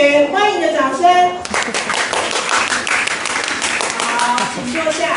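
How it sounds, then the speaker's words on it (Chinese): Students in a school classroom clap together in welcome, a dense burst of many hands filling most of the clip after a short stretch of voices, loud and close. "给春上的同学欢迎的掌声。"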